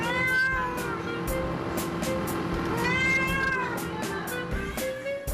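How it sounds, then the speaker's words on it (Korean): A stray cat meows again and again from a rooftop above a café, high and drawn out, fairly faint against a steady background hum. "오, 이건 다른 고양이 소리."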